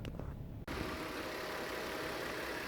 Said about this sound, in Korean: 냉각수가 좀 더 퍼지게 한 5분간 공회전을 시켜주겠습니다.